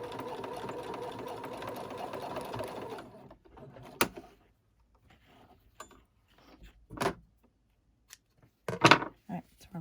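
A home sewing machine runs steadily for about three seconds stitching down a waistband on a newborn elf outfit's pants, then stops, leaving faint scattered clicks and handling noises.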